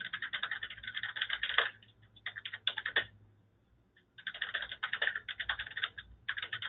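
Computer keyboard typing in quick bursts of clicky keystrokes, with a pause of about a second in the middle before a second steady run of keys, close and clear with no voices.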